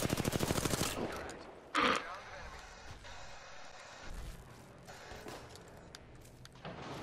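Gunfire in an Apex Legends match: a rapid burst of automatic shots opens, followed by a single loud blast and scattered quieter impacts, with players talking over the action.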